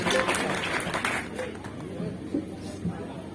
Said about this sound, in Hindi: एक बार तालियों से हौसला अफजाई कर दें तो मन बन जाए